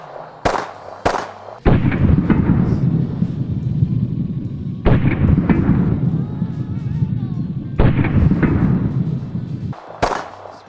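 Pistol shots at an outdoor shooting drill: a few sharp, loud reports, two close together at the start and more spaced through the clip, between stretches of steady background rumble.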